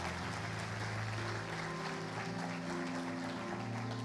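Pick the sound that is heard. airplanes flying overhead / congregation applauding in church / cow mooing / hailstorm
congregation applauding in church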